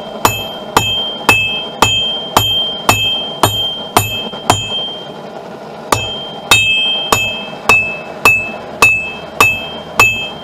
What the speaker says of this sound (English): See if I can hammer it thinner.